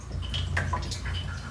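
Filtered RO/DI water dripping off a hose into a 7-gallon plastic tub: a handful of small, bright drips landing irregularly over a soft constant low hum, heard up close.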